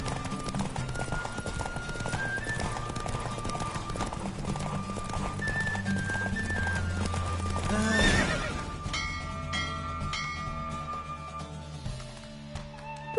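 A horse gallops with steady clip-clop hoofbeats over game music in The Witcher 3, and a loud whinny rises midway through.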